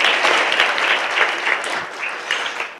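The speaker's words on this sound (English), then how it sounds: "can you give all our sponsors a round of applause for providing this opportunity for us?" An audience at a CBD business conference applauds the event sponsors, a dense burst of clapping that carries on steadily and tapers off slightly toward the end.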